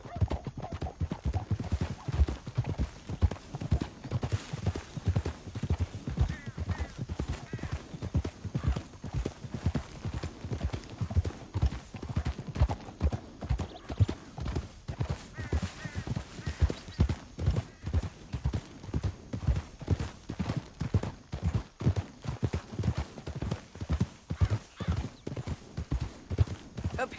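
Horse hooves gallop in Red Dead Redemption 2, a fast, steady clip-clop rhythm heard close throughout, with occasional faint talk in the background.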